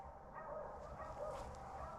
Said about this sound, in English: Somebody out hunting this morning with their dogs?